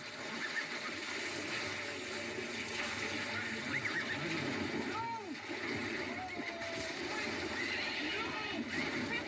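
Horses whinny and neigh as a wagon drags them under during a river crossing, several shrill calls heard over rushing, splashing water in a dramatized scene with voices speaking.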